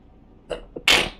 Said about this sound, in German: Oh, ich musste niesen.